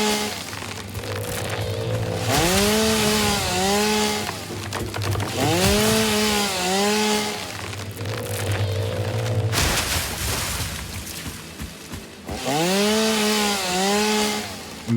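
Chainsaw in the video game Satisfactory cutting down trees, loud repeated revving bursts that rise and fall in pitch, several cuts in a row with brief idle gaps between them.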